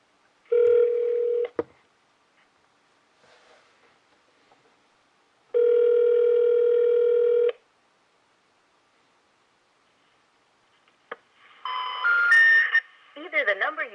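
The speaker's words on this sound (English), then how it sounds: "Let's call again. So I'm calling" A phone call being placed: two sustained dial-tone bursts separated by silence, then a quick cluster of touch-tone dialing beeps and short warbling tones, with a brief voice at the very end.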